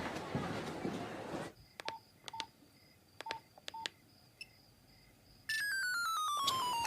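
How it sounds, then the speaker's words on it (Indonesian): Mobile phone game tones sounding in short beeps, then the phone's ringtone bursting in loud and steady, with no voices. "Saat asik bermain, tiba-tiba permainannya kalah, HP-nya pun berbunyi."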